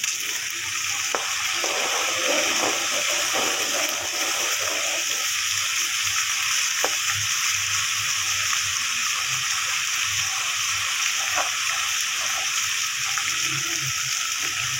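Browned onions frying in a pan with garlic ginger paste just added, a continuous close sizzle with occasional stirring scrapes, no talking.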